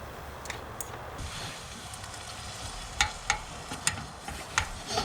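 Tofu scramble frying in a pan inside a car, giving a steady, close sizzle with scattered sharp ticks and pops growing more frequent toward the end.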